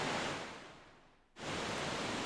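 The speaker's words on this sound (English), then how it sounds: "there's sounds coming out from the waterfall right here" A waterfall in The Legend of Zelda: The Wind Waker gives off a steady, full rush of falling water. It fades to a brief near-silence, then snaps back to full loudness.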